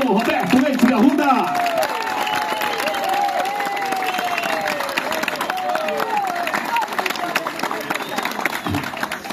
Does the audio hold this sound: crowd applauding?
yes